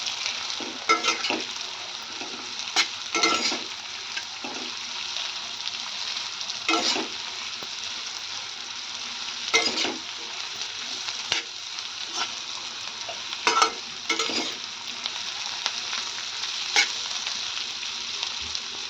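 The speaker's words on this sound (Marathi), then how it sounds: "मी यामध्ये कारलं घालत आहे तेलामध्ये कारलं व्यवस्थित परतून घ्यायचं आहे" Bitter gourd fries in hot oil with a continuous bright sizzle, broken every few seconds by louder stirring scrapes and bursts as the pieces are tossed.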